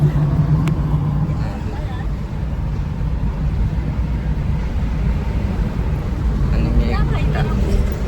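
Steady engine and road rumble from a car cruising at speed toward the Mumbai–Ahmedabad highway, a continuous low drone with broadband tire and wind noise throughout, voices faintly underneath.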